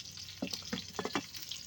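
Oil sizzles and crackles in a pan of frying bananas, with a few sharper spattering pops and bursts over a steady frying hiss.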